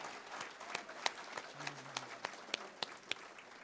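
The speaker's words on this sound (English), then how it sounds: "Let's give them a round of applause for a great job." Scattered applause from a banquet audience at a Shady Maple dinner for staff, a sparse handful of separate claps spread across a few seconds, fairly quiet and distant, with a brief low murmur partway through.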